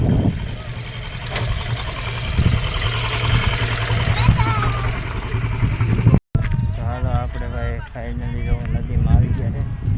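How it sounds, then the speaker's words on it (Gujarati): Auto rickshaw engine arriving on a rough road near a river, a close chugging idle with knocking pulses, briefly cut off, then voices talking over the continuing engine. "રિક્ષા આવે છે"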